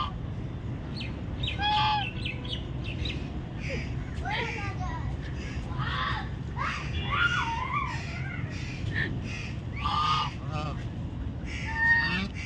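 Domestic geese at a farm honk repeatedly, with several nasal calls scattered over a steady low rumble, heard close by while a person talks throughout.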